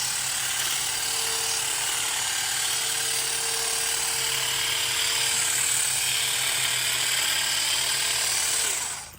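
A small 4-in-1 trimmer cuts a cedar tree, a continuous high-pitched motor whine with a buzzing edge that holds steady and close for the whole stretch, then cuts off at the end.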